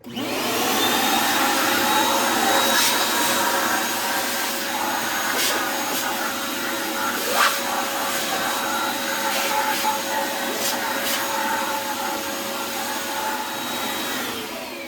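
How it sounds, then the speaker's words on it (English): A loud vacuum cleaner whirs continuously at close range while cleaning a golf cart battery tray, its steady roar shifting slightly in pitch as it works. "let's go ahead and vacuum this out"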